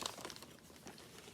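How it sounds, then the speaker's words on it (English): A plastic bag holding skeins of sock-club yarn being handled, giving quiet, close crinkling with a few sharper crackles over a brief moment. "sorry about the crinkling"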